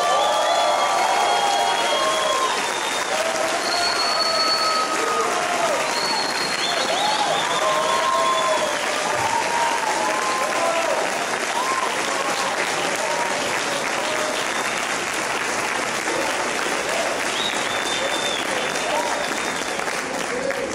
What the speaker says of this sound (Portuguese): você vai dar um grande aplauso ao Senhor